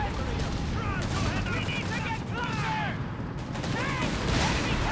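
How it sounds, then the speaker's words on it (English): Grenade launcher fire and other weapons from the strategy game Company of Heroes 3 make a continuous wash of battle noise with bursts and booms, while a commentator talks over it and whistling projectile sounds rise and fall. "Grenade launcher missing wildly."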